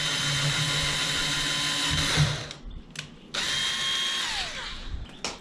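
A cordless power drill drives a screw into a kayak hull to mount an anchor trolley, whining steadily, dropping out briefly, then spinning up again and winding down, close and alone.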